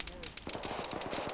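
Repeated sharp gunfire bursts in ArmA 3 combat, with a tank still shooting nearby, fast rattling shots over a brief moment with a voice underneath.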